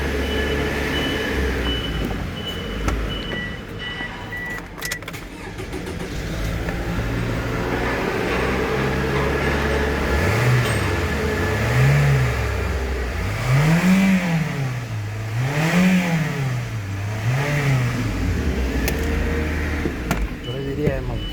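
A 2005 Toyota Isis with a 1AZ-FS engine, 4WD and automatic transmission, idles steadily, then revs up and down in several repeated swells, close and loud.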